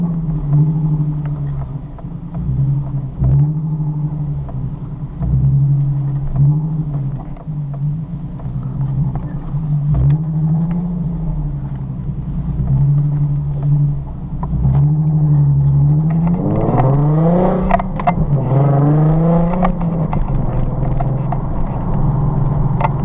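A car rides on eBay coilovers, its engine a steady low drone inside the cabin with road rumble, then climbs audibly in pitch as it accelerates through gears near the end.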